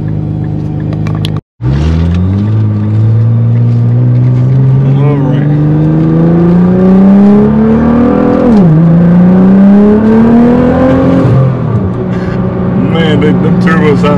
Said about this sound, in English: Them turbos sound so good.